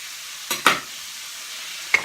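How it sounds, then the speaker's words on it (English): Chopped onions and garlic stirred in a hot pan, a soft steady sizzle broken by two or three quick scraping stirs, close and clear with no talking. "chop it all up and mix it around so it browns nice"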